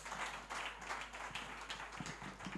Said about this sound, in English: can you give a round of applause to my panelists?